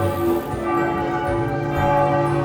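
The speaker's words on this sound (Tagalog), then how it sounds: "It's the 4 o'clock tower bell." A church tower bell in Belgium rings out at four o'clock, its loud sustained tones overlapping and humming continuously without pause or voices.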